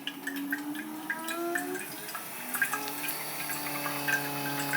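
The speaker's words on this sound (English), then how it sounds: "now we're getting water through the group" Water running through the group head of a Sanremo espresso machine, a steady close trickle with faint drips over a continuous pump hum and a few tonal whines, no talk.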